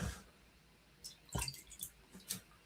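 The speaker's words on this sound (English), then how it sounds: "Let me pour a little bit of that in there." Biscoff-infused apple brandy poured into a glass as a few quiet, brief splashy dribbles and drips, close by, with soft near-silence between them.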